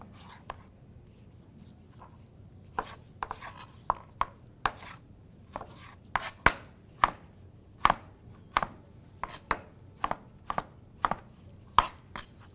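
Knife dicing spaghetti squash on a cutting board: sharp, irregular chops that start sparse, then come in a steady run of distinct knocks over a low background hum, no talking.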